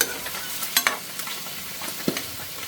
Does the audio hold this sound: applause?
no